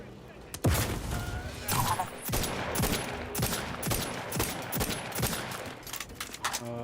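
Rapid bursts of automatic gunfire crackle in dense, overlapping volleys from a shooter video game, loud and close, with a few sharper single shots scattered through.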